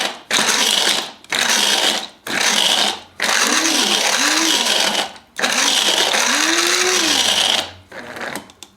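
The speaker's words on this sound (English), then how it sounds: "That sound is a nut stuck under the wheel" Coffee grinder grinding hazelnuts with a nut stuck under the blade, loud close whirring bursts pulsed on and off about seven times, rattling and straining with wavering pitch.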